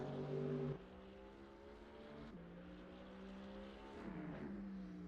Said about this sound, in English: These cars sound incredibly good